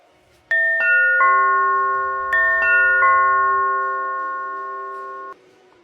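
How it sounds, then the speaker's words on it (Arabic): A two-tone doorbell chime sounds twice in quick succession, the bright tones ringing out and slowly fading in a quiet room. "الجرس بيرن"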